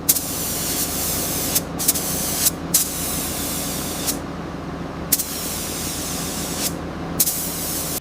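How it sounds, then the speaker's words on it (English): Gray primer hisses from a spray can onto a Thomas train model in repeated continuous bursts separated by brief pauses, close and loud with no talking. "That first pass of gray primer covers up all the welds and filler."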